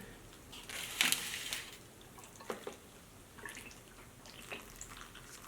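Water splashes and trickles into the soil of a pot of green onions in a few short pours, with quiet drips and rustling between them.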